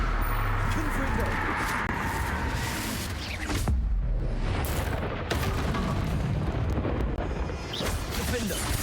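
Explosive Confringo spell blasts go off in Hogwarts Legacy combat: booming bursts, one sharp and loud around the middle, cut through a dense, continuous wash of game noise.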